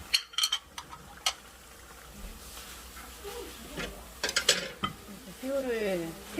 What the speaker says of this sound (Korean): 우리 모든 사람들이 좋아하는 새우튀김 들어갑니다